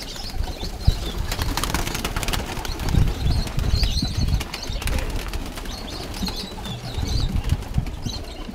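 Pigeons flap their wings in repeated bursts of fluttering, close by, with soft cooing and a few chirps in between.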